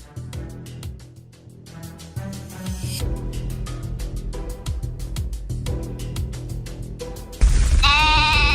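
Sheep bleat on a farm, several overlapping loud calls in a steady rhythmic pattern, ending with a sudden louder, harsh bleat.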